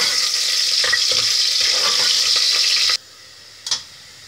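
Onions fry loudly in a pan for Indian chana dal, a dense close sizzling hiss with faint stirring scrapes, then the sizzle cuts off abruptly, followed by a single brief clatter.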